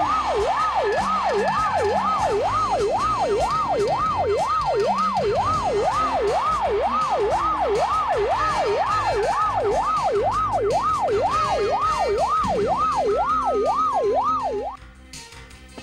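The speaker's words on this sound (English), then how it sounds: "there goes a police car." A loud police car siren wails, sweeping rapidly up and down in a steady yelp for about fifteen seconds, then cuts off abruptly.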